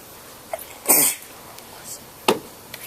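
Two sharp sneezes burst out over a quiet room hum, the first longer and stronger, the second a quick snap a moment later.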